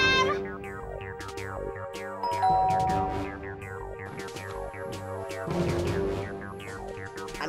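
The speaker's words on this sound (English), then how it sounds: "Oh, great! Doorbell!" A cartoon doorbell rings with bright repeated ding-dong chimes over layered musical tones, loud and continuous for several seconds.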